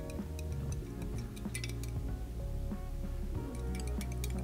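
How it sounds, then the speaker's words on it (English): A spoon clinks and taps against a container in quick irregular strokes while stirring cyanotype chemical solution, fairly close and moderately quiet, with no talking. "So you're going to take your spoon and just mix it up really quick"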